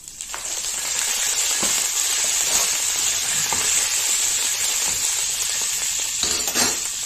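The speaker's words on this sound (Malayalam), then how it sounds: "അപ്പം നമുക്ക് കറിവേപ്പില ഇട്ട് കൊടുക്കാം." Curry leaves hit hot oil with a loud, continuous sizzle and spatter, close by, with a few faint clinks of a utensil and no talking.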